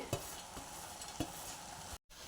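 Leafy greens go into a pan of cooked jackfruit seeds and fry, with a steady low sizzle broken by a few sharp stirring knocks, then a brief silent gap near the end.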